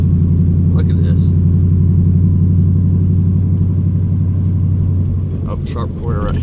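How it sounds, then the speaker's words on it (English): An LS1 F-Body car engine lugs uphill in 5th gear with a loud, low, steady rumbling drone that throbs with cam surge, and voices come in briefly near the end. "And it's lugging, but it's pulling. And all this is uphill in 5th gear."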